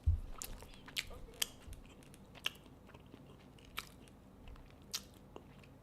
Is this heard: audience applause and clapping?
no